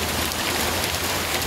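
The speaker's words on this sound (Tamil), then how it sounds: "நேற்று வரைக்கும் மழையை பாருங்கள் எப்படி பெய்துட்ருக்குன்னு." Steady, dense rain pours down in an even wash of hiss and patter with no pauses, loud and close, with no voices.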